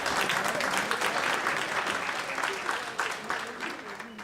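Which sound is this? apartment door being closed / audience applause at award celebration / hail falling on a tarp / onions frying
audience applause at award celebration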